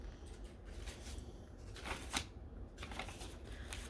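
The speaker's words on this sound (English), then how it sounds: "I'll just flip to this real quick." Pages of a three-ring notebook are flipped quickly, giving soft papery riffles and rustles over a few seconds, close and fairly quiet, with no talking.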